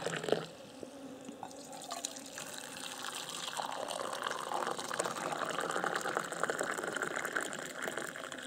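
Water runs and splashes steadily while an apple is rinsed outdoors on a hiking trip, a close, continuous trickling gush with small drips throughout.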